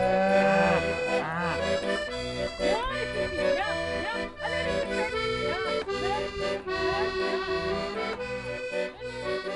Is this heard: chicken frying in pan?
no